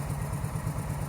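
A custom bobber motorcycle idles in neutral inside a garage, its low, steady engine putter running evenly and close by for about a second with no talking.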